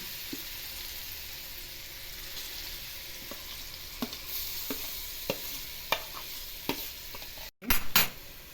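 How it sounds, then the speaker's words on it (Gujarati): Raw mango chutney sizzles softly in a pan with tempered mustard seeds and cumin, and a spoon stirs it with light, scattered scrapes and taps. There are a couple of louder knocks at the end. "હવે ધીમે ધીમે સાંતળતા જઈએ"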